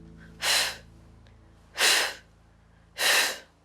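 Deep, slow breaths drawn in and pushed out during a yoga stretch, three broad airy swells spaced about a second apart, close and clear over a low steady hum.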